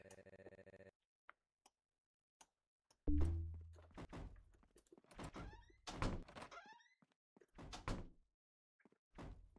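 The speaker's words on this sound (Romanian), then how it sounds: "De ce bate cineva la ușă?" Knocking on a door in the Roblox video game: a few faint taps, then a loud thud followed by a series of irregular knocks and bumps separated by silent gaps.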